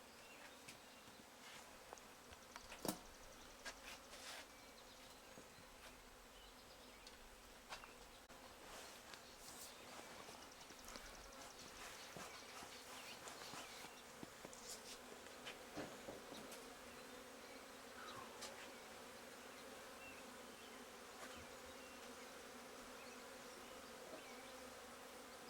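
A room full of bees buzzing steadily throughout a canning room, a dense continuous drone with individual insects passing close now and then, no talking.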